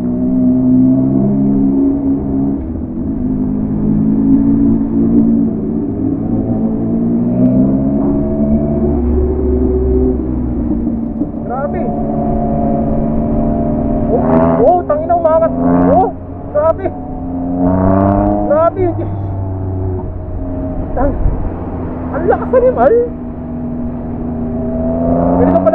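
A 2022 Yamaha MT-09 with a full exhaust and removed catalytic converter revs loudly up close, engine roaring and climbing in pitch with throttle blips, while someone talks over it.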